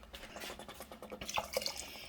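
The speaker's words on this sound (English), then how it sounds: "add 1/2 a cup of water" Water, half a cup, pours briefly into a pot, with splashing and a few bright drips toward the end; close and moderately quiet.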